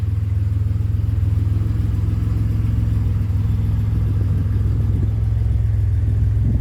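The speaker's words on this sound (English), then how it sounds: "As you'd expect, the car drives beautifully." A restored 1969 MG MGC Roadster drives along with a steady, deep engine rumble and low mechanical drone, heard close and continuous without any talk.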